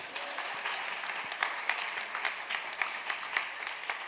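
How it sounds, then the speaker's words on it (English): Audience applause at a presentation on justice in institutions, steady sustained clapping from a crowd in an indoor hall, moderately loud and continuous with no pause. "we continue to clap and show our team love"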